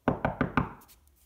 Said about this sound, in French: Elle frappa à la porte.